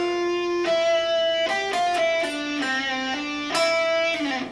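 Electric guitar riff played back from a Yuer XS-02 looper pedal, a bright distorted run of sustained notes with several clear note changes, loud and close with no talking.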